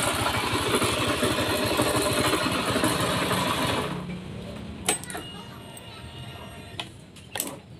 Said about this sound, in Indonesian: Suara mesinnya kasar kawan ya